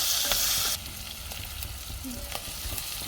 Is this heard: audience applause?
no